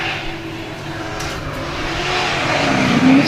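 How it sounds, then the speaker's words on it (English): A BMW E36 drift car with a Toyota 1UZ V8 engine is worked hard in British Drift Championship qualifying at Buxton, a rising, distant engine roar that builds toward the end amid track ambience. "So Ash Jones, you can hear him really working that car"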